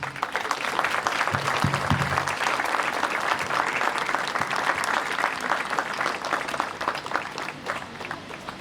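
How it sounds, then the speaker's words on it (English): Thunderous applause honoring the school's founders at a graduation ceremony, a large crowd clapping densely and loudly without pause for several seconds, with faint scattered voices mixed in. "Please join me in giving our founders a thunderous applause for their pioneering spirit and steadfast commitment"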